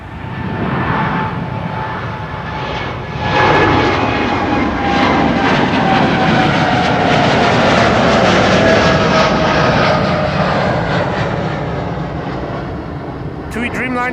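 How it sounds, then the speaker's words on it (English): A TUI Dreamliner jet takes off from runway 24 at Schiphol, its engines building into a loud, sustained roar that swells and holds across the whole stretch, with a brief clatter at the very end. "TUI Dreamliner"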